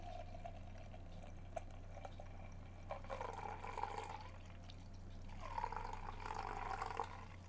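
A dark drink is poured over a few seconds, heard as two faint gurgling, splashing pours into a glass against a low background hum, with no talk.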